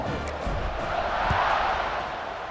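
Stadium crowd noise at kickoff in the EA Sports College Football 26 video game, a dense, steady roar of many voices swelling slightly, heard at moderate distance without a commentator's voice.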